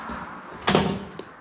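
A door creaks and bangs inside an abandoned barber shop, one broad knock-like thud standing out near and fairly loud against a quiet, empty room, followed by a faint smaller tap.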